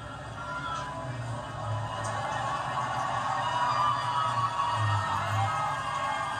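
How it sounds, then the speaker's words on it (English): A large crowd outside Buckingham Palace cheers and applauds the Queen at her Platinum Jubilee balcony appearance, a sustained, distant roar swelling gradually with scattered whoops. "Crowd shows its appreciation once again"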